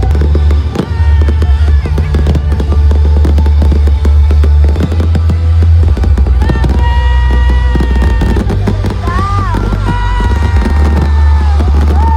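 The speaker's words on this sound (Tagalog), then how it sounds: "At first time namin makapanood ng ganito kagandang fireworks talaga." Loud, continuous fireworks bursting and crackling in rapid succession at the Kalimudan Festival in Sultan Kudarat, Philippines, with a crowd cheering and whistling throughout.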